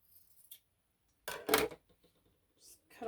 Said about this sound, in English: So I'm going to take some scissors